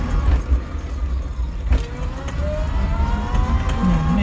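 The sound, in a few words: electric vehicle with 1200W 48V controller driving uphill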